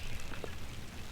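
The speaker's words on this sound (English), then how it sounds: "Lots of drops coming down, splashing the coots, and the mallards" Rain falls steadily in the countryside near a pond with coots and mallards, a soft, continuous patter of drops with a faint duck-like quack in the background and no talking.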